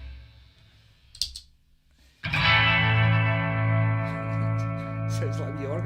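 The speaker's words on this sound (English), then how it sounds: "Sounds like a wee organ, doesn't it?" Gibson SG 60s tribute 2013 electric guitar through several effects pedals, giving an organ-like tone: a few faint clicks, then a loud sustained chord held steady for several seconds, with talking around it.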